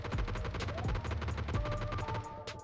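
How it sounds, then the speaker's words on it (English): Distant gunshots in the battle royale shooter PUBG, a faint steady run of repeated shots heard while the player waits near a rock, quiet and far off. "I start hearing some shots to my left"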